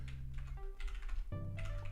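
Quick, uneven key presses clatter on a computer keyboard, close and fairly quiet, with a brief pause midway before the tapping picks up again. No talking.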